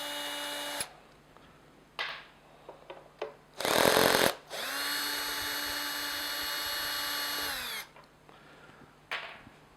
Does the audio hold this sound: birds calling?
no